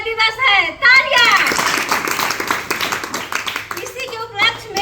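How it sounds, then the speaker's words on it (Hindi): Clapping bursts out from a crowd at an Independence Day school program, a dense wash of hands lasting a few seconds between stretches of a man's speech before and after. "तालियां।"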